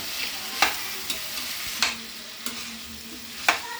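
Raw banana pieces fry in a pan with a steady hiss, punctuated by about five crisp spatula scrapes and knocks at uneven intervals.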